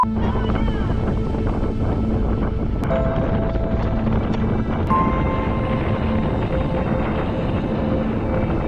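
A boat rides big waves at sea in the rain, with a constant roar of wind, water and engine that holds steady throughout, with faint voices underneath.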